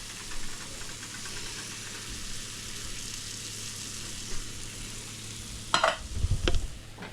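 Tomato sauce being stirred into Cajun spaghetti in a pot, a steady low sizzle and scraping stir running throughout, with a burst of louder clattering stirring near the end.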